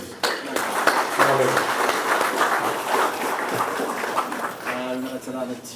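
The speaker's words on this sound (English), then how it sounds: "Round of applause, please" Applause and clapping from a crowd at an office opening ceremony in Ba, Fiji, fill the background while people talk over it, steady throughout.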